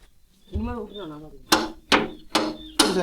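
Hammer blows on metal while changing blades on a Mahindra Arjun Novo tractor's Gomathi rotavator at home: four sharp, ringing clangs spaced about half a second apart, preceded by someone speaking nearby.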